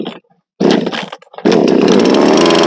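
A chainsaw, its chain sharpened with an angle grinder, cuts dry firewood: loud, close bursts of high buzzing that drop out briefly, then a sustained full-throttle cut.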